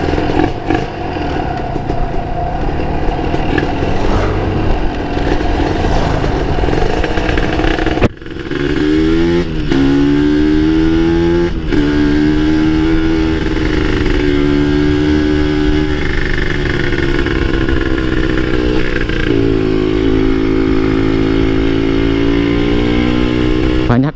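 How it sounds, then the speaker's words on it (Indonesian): A nearby two-stroke Kawasaki Ninja RR motorcycle engine rumbles and shifts pitch, revving and dropping as it engine-brakes and downshifts climbing uphill, with steady road and wind noise. "suara motor gua, engine brake, downshift, nanjak ini juga kedengeran jelas"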